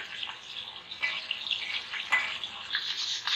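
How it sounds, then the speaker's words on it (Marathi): Bay leaves sautéing in a pan with ginger garlic paste, a steady close sizzle and frying hiss with brief stirring scrapes, moderately quiet, no talk, while making Malvani kombdi wade. "आता त्यामध्ये आपण तमालपत्र टाकूया, छान असं परतून घेऊया"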